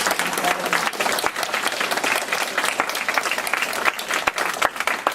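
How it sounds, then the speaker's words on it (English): A conference audience at an organ procurement event gives sustained applause for the speakers and organizers. The clapping is dense and fairly loud and runs throughout with a crowd-like wash, and faint voices mix in underneath. "I think we need to give a big round of applause to our speakers and the conference organizers"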